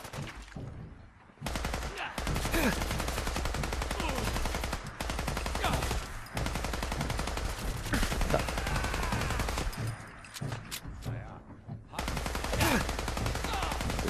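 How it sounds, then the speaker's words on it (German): Bursts of rapid gunfire from the video game Fallout 4 come in several long volleys separated by brief pauses, loud and dense, with faint talk in places. "Schüsse, wie ich auf den abgebe"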